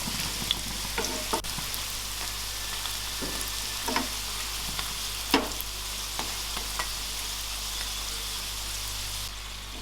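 Wheat flour flatbread fries in oil in a pan over medium to low flame, a constant close sizzle with scattered pops and crackles and a low hum running beneath.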